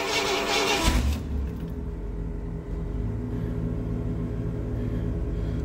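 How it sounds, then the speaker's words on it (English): Air ride suspension compressors kicking on in a 1970 Pontiac Catalina, a bright burst of noise giving way to a steady low hum and rumble that continues to the end. "You hear the compressors kicking on for the air ride."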